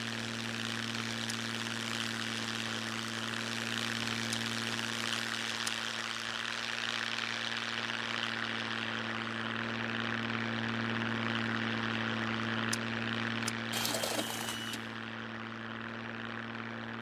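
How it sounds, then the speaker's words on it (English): A propeller airplane drones steadily overhead, a constant engine hum that holds at an even level for the whole stretch with no talking. "there you go, the freaking plane again"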